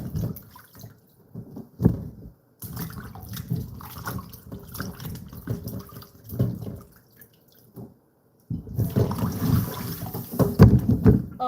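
Salted eggplant rinsed under running water, intermittent splashing and dripping bursts with short pauses, close and moderately loud, no one speaking.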